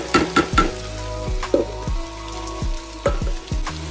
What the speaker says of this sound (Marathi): तेल छान तापलेलं आहे, तडतडतं आहे, तोपर्यंत आपण कांदा टाकून घेऊया ह्याच्यात.